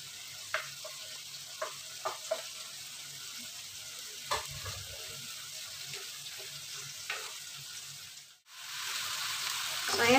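Onion and garlic sauté in a pan with a steady soft sizzle close by, punctuated by a few light clicks of stirring, then a brief hush before the frying resumes louder.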